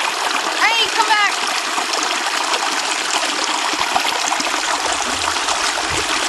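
Water splashes and rushes steadily in a mountain stream, loud and close, with a brief chirp-like sound early on and no clear talk.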